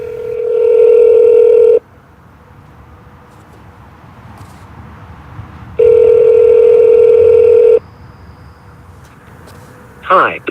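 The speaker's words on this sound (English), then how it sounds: "when you're receiving an incoming call on Pixel 3 with call screen" Incoming call ringing on a Google Pixel 3 with call screen, two long loud electronic tone bursts separated by a quiet gap, close and clean, ending with a brief chime.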